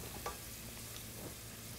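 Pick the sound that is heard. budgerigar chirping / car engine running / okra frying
okra frying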